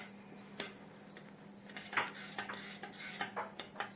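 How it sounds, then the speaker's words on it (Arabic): A spoon stirring dissolved starch into homemade ketchup in a pot, giving quiet, irregular clinks and scrapes against the metal with brief taps, close and fairly soft. "هنزل بقى بالنشا مدوباه في الميه وهقلب كده"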